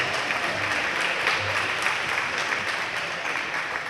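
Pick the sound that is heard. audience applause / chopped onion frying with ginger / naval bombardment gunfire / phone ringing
audience applause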